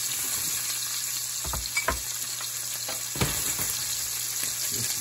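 Salmon fillets sear in a hot pan, a loud steady sizzle close up, with a few brief clatters of turning or scraping against the pan.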